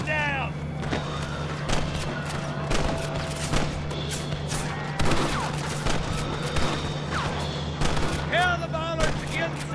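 Repeated bursts of gunfire crackle through a Red Dead Redemption shootout, with shots scattered across the stretch over a steady low hum, and voices shouting amid the gunfight.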